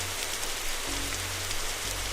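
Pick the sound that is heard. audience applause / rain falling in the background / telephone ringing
rain falling in the background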